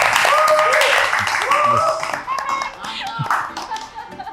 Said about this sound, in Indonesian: Jadi mohon sambut semuanya. Boleh tepuk tangan.